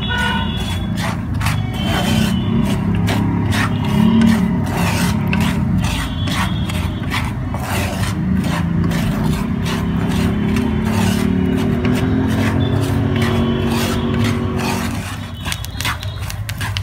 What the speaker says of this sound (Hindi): आप इनकी आवाज सुन सकते हैं कैसे चिड़क रही है, चटक रही है मूंगफली।